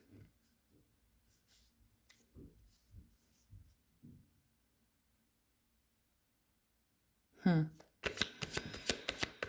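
Tarot cards riffled and shuffled in a quick, close, dense burst during a reading, following a stretch of quiet speech with soft handling sounds.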